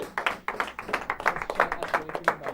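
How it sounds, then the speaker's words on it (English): Audience applause after a boss kill during a speedrun event, a crowd clapping in quick uneven bursts, close and lively, with no voices over it. "You guys can clap, by the way."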